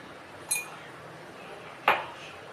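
A small spoon clinks against a pot or bowl as chili powder goes into a curry of gongura leaves and raw mango, two bright metallic taps about a second apart over quiet kitchen background.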